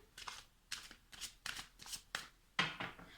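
Deck of chakra cards shuffled in quick riffles, about seven crisp ruffling bursts in a steady rhythm, close and quiet, with no talking.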